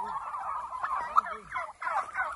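Turkeys gobble repeatedly as they are herded toward a mobile shelter on pasture, a cluster of warbling, bubbling calls close by, rising and falling in several overlapping bursts with faint talk in the background.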